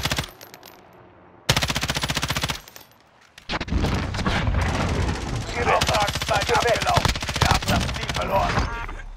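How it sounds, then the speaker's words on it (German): Gunfire in the video game Warzone, including a rocket launcher fired from a helicopter near a stadium: bursts of rapid automatic shots, then sustained loud firing and impacts, with a player talking over parts of it. "Da schießt ein Raketenwerfer, da schießt ein Raketenwerfer vom Hubschrauber irgendwo vom Stadion aus."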